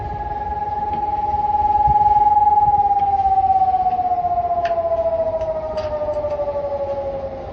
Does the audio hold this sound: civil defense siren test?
yes